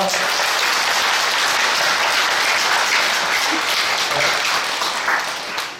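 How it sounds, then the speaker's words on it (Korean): A church congregation applauds in a steady, dense wash of clapping that fills the room throughout and tapers slightly at the end. "우리 박수 한번 다시 하겠습니다"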